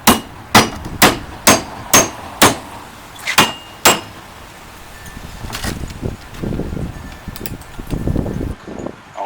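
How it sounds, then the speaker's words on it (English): Hammer strikes drive a wedge bolt into a hog head rod clamp: seven sharp, evenly spaced metallic blows ringing out close and loud, then an eighth after a pause, followed by quieter shuffling and handling noise. "all you would have to do is just drive the wedge bolt in"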